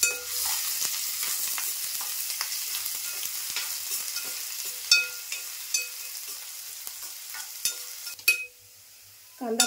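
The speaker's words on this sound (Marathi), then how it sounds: "कांदा पण टाकते फोडणीला." Onion frying in tempering oil for Malvani chicken rassa, a soft steady sizzle with scattered scraping and tapping of the stirring spoon against the pan, moderately close and without talk.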